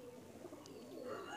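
A pigeon of the Kalo Dana breed, a short, faint, low coo at a distance amid quiet background noise.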